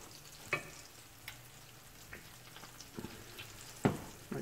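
Food frying in margarine in a pan, a low steady sizzle with a few brief clicks and clatters of cooking, fairly quiet and with no talking.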